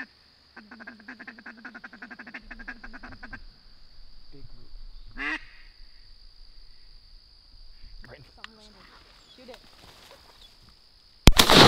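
Ducks circling in to land during a Wisconsin duck season opener hunt, with rapid repeated quacking calls in a steady run, later scattered calls, faint background insect chirring and low murmured talk, ending in a sudden loud burst.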